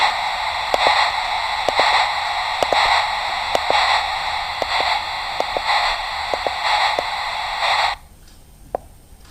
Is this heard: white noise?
yes